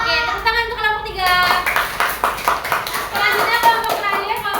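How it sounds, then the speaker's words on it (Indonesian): A classroom of students claps for a group's presentation, a lively burst of mixed hand claps over children's voices and chatter that continues throughout. "Oke, tepuk tangan untuk kelompok 3."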